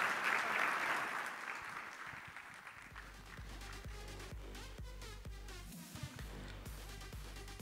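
An audience at a business panel discussion applauds, with a burst of clapping at the start that thins into scattered claps over a low, steady hum, all fairly faint.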